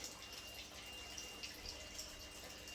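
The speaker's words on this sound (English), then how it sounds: "Make sure that the water is drained out." Water drains from an indoor plant pot in a soft, continuous trickle with faint drips, quiet and steady throughout.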